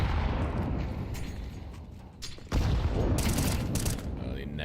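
Grenades going off in Counter-Strike during an IEM Dallas 2024 qualifier match: dense, loud explosive blasts and bursts, with a sharp new detonation near the middle, while a caster talks over the game sounds.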